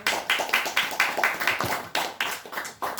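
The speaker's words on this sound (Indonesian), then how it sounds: "tepuk tangan buat Romo" Audience applause at a talk on the history and philosophy of Javanese wayang kulit puppetry, heard as a handful of close, evenly spaced claps in a steady rhythm, like a small group clapping together.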